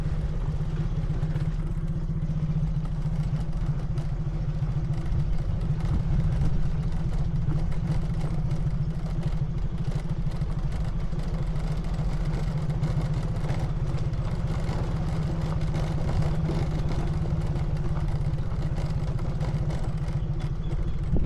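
Motorcycle engine climbing a dusty quarry mountain road, a steady loud mid-pitched drone with rumbling low end that holds throughout with little change.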